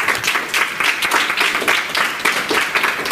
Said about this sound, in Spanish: ese aplauso tiene que sonar un poquito más fuerte